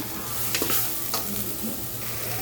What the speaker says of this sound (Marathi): गरम तर हे वाटण आपण छान परतून घ्यायचं आहे मस्तपैकी तेल सुटेपर्यंत